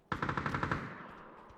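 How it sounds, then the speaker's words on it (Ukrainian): A rapid burst of about eight video game gunshots in quick succession, sharp and fairly close, then fading into a lingering tail with faint clicks. "Ну сам уже може постріл здалеку"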